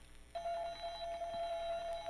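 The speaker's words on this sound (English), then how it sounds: "the alarm bell on the timer's ringing" A steady electronic tone starts abruptly and holds, a timer's alarm bell ringing continuously at moderate volume with no voices.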